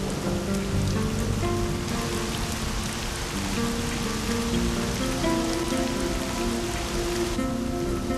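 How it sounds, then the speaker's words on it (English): Monsoon rain falls steadily at a desert oasis in Australia's Red Centre, a dense even patter of drops on surfaces, close and continuous, with a faint tonal musical bed beneath it. "the monsoon rains are a trickle at first."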